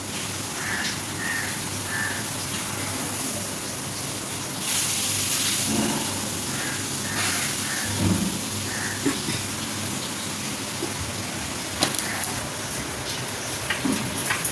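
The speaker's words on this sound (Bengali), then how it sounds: "বাইরে আবার ঝমঝমিয়ে বৃষ্টি শুরু হয়েছে।" Heavy rain falls outside as a steady, dense hiss that holds even throughout, with a few faint bird calls and light indoor clatter on top.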